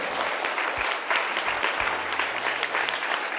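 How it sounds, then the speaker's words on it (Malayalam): A crowd in a church parish hall at a Knanaya parish gathering claps together, a steady, moderately loud round of applause that holds for a few seconds. "അവർക്കൊരു കയ്യടി കൊടുക്കണ്ടേ? നല്ലൊരു കയ്യടി കൊടുത്തേ."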